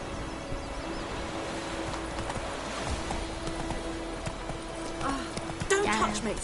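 Geralt's horse Roach from The Witcher 3 gallops with a steady clip-clop of hooves under a continuous outdoor ambience. Speech runs over the hoofbeats, and louder movement near the end.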